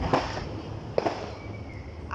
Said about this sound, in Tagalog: Ah, fireworks.